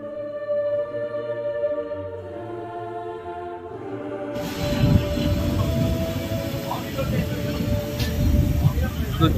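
Train 15777 tourist special running from New Jalpaiguri to Alipurduar, heard from inside with steady rumbling wheels and a sudden louder surge of rattling and wind noise as a window or door opens partway through, with speech over it.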